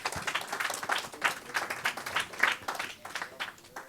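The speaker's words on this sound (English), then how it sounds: "Please give them a round of applause." A crowd claps for panel speakers at an emancipation event, with moderately loud, continuous applause rolling in dense waves and thinning out toward the end.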